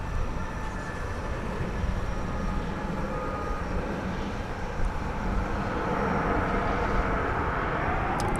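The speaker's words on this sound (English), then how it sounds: "It's an American Eagle flight coming in from San Angelo, Texas. CRJ 701ER" American Eagle CRJ-701ER regional jet arriving at DFW Airport at night, a moderate continuous engine rumble and hiss with faint whine, steady and somewhat distant, no talk.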